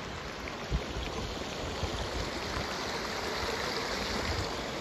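Floodwater from heavy monsoon rain rushes past in a continuous, broadband roar, steady and fairly close, with no voices.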